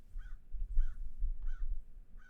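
Crow-like birds in the video game Paradise Killer give three or four harsh cawing calls at a steady spaced rhythm, sounding fairly near over a low rumbling background.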